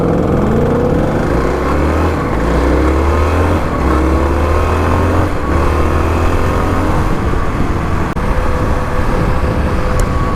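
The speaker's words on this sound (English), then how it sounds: "This Mustang here looks like it has the active exhaust" A 2018 or 2019 Ford Mustang with active exhaust drives past, a loud steady engine drone with a low rumbling note that shifts pitch as it goes by, heard alone without talk.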